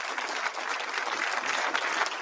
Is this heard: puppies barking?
no